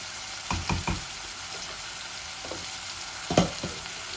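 Sliced onion, bay leaf and salt fry in oil for a Bangladeshi dal tempering, giving a constant sizzle broken by several sharp knocks and scrapes of a spoon against the pan.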